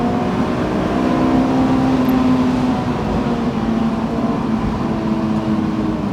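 A Honda S2000 sports car engine revs toward high RPM, a loud, steady droning engine note held for several seconds with no talk.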